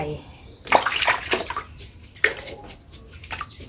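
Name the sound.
washing custard apples in water to remove mealybugs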